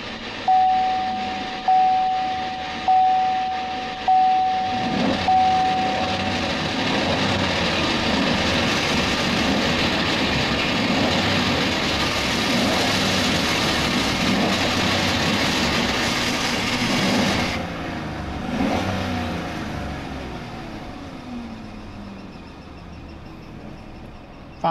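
A 2015 Chevy Silverado 1500 with 93,000 miles, parked at a junkyard, cranks with a few repeated starter pulses, then settles into a loud, steady idle that runs on alone.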